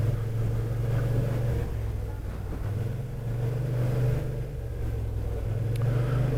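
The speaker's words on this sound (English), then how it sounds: "Wow, a lot of traffic." Dense traffic on a narrow road in Manila, heard from a Kymco AK550 scooter, with a continuous loud engine drone and rumbling vehicles close around.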